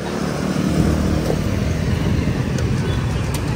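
Steady, loud Vietnamese city street traffic with a dense low engine rumble, many motorbikes and cars passing close by continuously.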